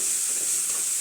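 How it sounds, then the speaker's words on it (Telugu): Spice powders (chili, turmeric and coriander) fry in a pan for a masala curry, giving a steady, close sizzle with a soft hiss that holds evenly throughout, with no talking. "కొంచెం వేగనిద్దాము"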